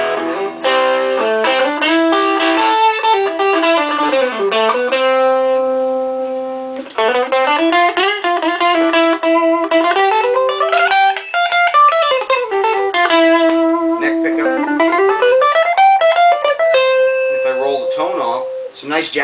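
Clean electric guitar on both pickups plays a flowing, melodic line with sustained bent notes and chords, close and bright, alone throughout.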